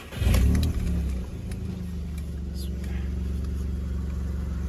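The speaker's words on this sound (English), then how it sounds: "Let's just go in the car and do the first start up." Volkswagen Polo 1.2 three-cylinder (6R/Mk5) engine starting after a coil pack replacement: a loud crank and catch, then settling into a steady low idle that continues to the end.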